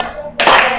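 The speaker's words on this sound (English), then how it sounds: "Everybody clap your hands." A crowd claps hands during the Cha Cha Slide line dance: after a brief quieter moment, one loud, dense burst of clapping comes in close and sustains to the end.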